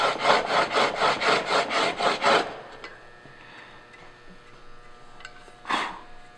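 A timber frame chisel is stroked across a finer sharpening stone to work down the burr, giving a run of about eight loud, even rasping strokes, then a pause and one last rub.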